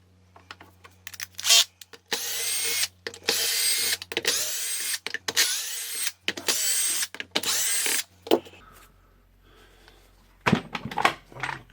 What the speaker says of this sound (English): now I will just open the cover